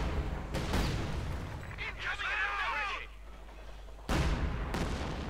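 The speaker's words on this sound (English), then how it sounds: "We got artillery flares here going down actually." Artillery barrage in the Company of Heroes 2 strategy game, heavy booming impacts and a whistling descending shell sound, loud and continuous with a renewed burst near the end, layered with game ambience.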